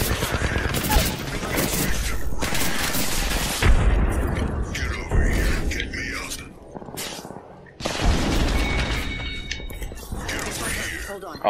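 Grenade explosions and bursts of gunfire from the Apex Legends video game rattle and boom almost continuously, loud and busy, with a player talking over the action.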